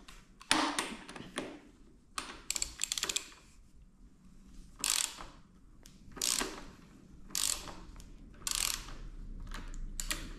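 Ratcheting wrench turning in quick bursts of clicks, loosening the front fork cap on a Ducati Scrambler 800, several short runs of clicking separated by pauses, close and fairly clear.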